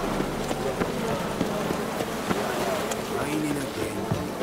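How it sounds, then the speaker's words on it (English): Rain falls steadily in The Witcher 3: Wild Hunt, an even hiss of drops with wind beneath it, while characters speak over the downpour. "Raining again."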